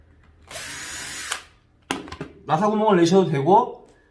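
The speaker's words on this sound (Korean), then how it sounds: "그 다음에 드릴 비트로 해서 나사 구멍을 내셔도 되고" A power drill with a bit whirs for about a second as it bores screw holes into wood, followed by a few clicks and taps, then a person speaks.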